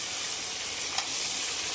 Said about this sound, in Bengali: আর গাজর, এই যে ভাজাটা হচ্ছে